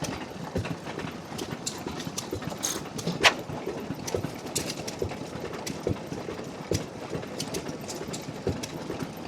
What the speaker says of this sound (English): Running on kerosene at the moment, with the hot tube up under there running.